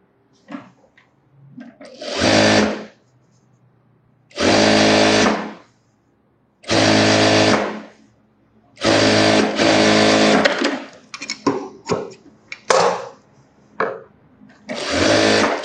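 A tailor's sewing machine stitches a sleeveless blouse in repeated loud, close bursts of a few seconds each, separated by short pauses and handling noises.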